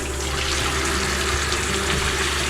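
Water running into an RV's black water tank, a loud, steady gushing and filling sound with a faint changing tone as the flow fills the tank, heard up close with no talk.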